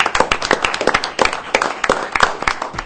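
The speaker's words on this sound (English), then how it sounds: "I'm going to clap for the fire department." A small gathering claps for the fire department at a community meeting, a close, dense patter of hand claps that runs without a break and has no talking over it.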